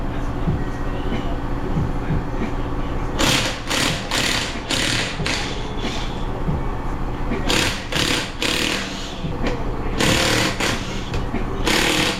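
An impact wrench rattles off the 17mm lug nuts on a 2014-2019 BMW X3 wheel in several loud, close bursts of hammering buzz separated by short pauses, with workshop noise between them.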